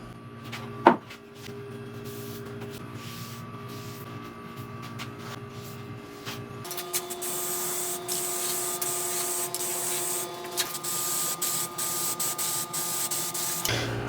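Aerosol can of gloss black high-heat paint spraying onto truck leaf spring parts, a steady broadband hiss that runs continuously through the second half after a brief rattle and quieter stretch.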